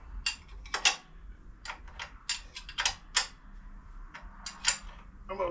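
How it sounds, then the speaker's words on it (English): Ratcheting clicks from tightening a 17 mm bolt through the frame of a Kawasaki Z1 900 motorcycle, a quick irregular run of sharp ticks close by, with no talk over them. "we're just finishing off by tightening this one, which is a 17 mil giant bolt that goes through the frame."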